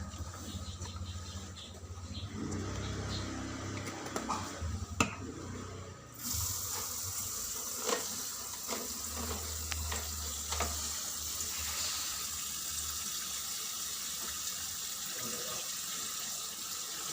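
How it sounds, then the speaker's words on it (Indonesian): A tap runs water into a basin for washing, a steady broadband splash that continues throughout after a brief shift in flow partway, with occasional clinks and knocks nearby. "Kemudian saya akan isi air dan deterjen cair untuk yang kedua kalinya."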